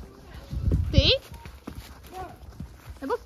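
Horse hooves clip-clop on a forest ride, a few close, uneven steps under the rider's talk, with a louder thud around the middle as people speak over it.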